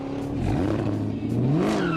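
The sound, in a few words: Callaway SC750 Camaro ZL1 supercharger and exhaust accelerating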